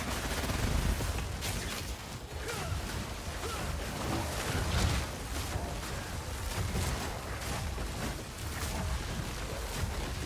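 Fragmentation rounds fire in rapid bursts in the video game Path of Exile 2, with dense crackling blasts and low rumbles overlapping into a loud, continuous barrage with no clear pauses.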